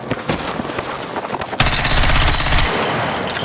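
Rapid automatic gunfire from a weapon in Battlefield 6, fired while the player moves, a loud sustained burst of shots rattling for about two seconds after a stretch of busy game noise.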